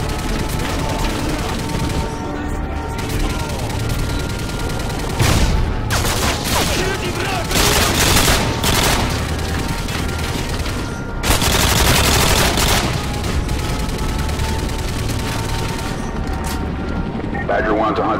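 Gunfire in Call of Duty: Modern Warfare 2 Spec Ops on Xbox 360, Wardriving mission, engaging infantry: dense loud bursts and repeated volleys of automatic fire with booms, with voices speaking over the combat.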